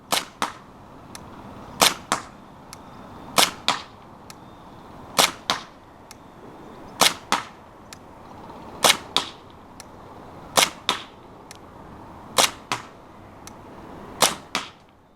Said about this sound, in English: So as you're firing, the flight path would deviate with almost every shot.